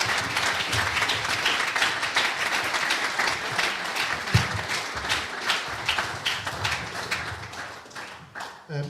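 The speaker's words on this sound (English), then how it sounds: "Please give them a round of applause." A crowd applauds panelists at a fans' forum in a working men's club, sustained close clapping from many hands that thins out and fades toward the end.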